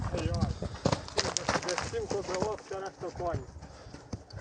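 Horse hooves clip-clop in a quick, irregular rhythm close by on a Ukrainian rural farm, while people talk over them throughout.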